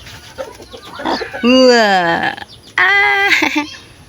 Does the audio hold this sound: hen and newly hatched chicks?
yes